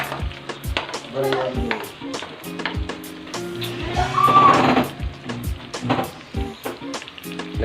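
Garlic sizzles and frying in a pan while being stirred for tinumis, a dark Filipino pork dish, with steady crackle and scraping utensil hits throughout and faint talk in the background.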